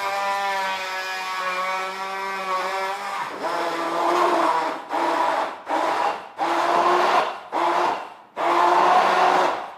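An XProject Professional 800W immersion hand blender with a turbo option whirs steadily, then its motor pitch drops and surges in several short bursts as it blends a strawberry drink, loud and close with no talk.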